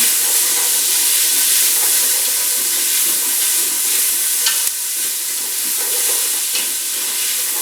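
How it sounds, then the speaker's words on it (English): Onions sautéing in a roast pan give off a loud, steady, close sizzle that hisses evenly and without pause throughout, with no one speaking. "Now we're going to drop in our onions. We're going to let these saute for a few minutes just to soften up"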